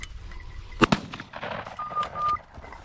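A double-barrel side-by-side shotgun fires a single sharp blast outdoors, close and loud, followed by a brief decay. Softer noises are heard around it.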